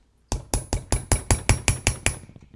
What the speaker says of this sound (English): First, I'm going to do some nylon hammering.